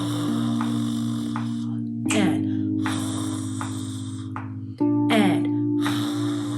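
A person imitates snoring with rough, rattling throat sounds in several drawn-out bursts over a steady low hum.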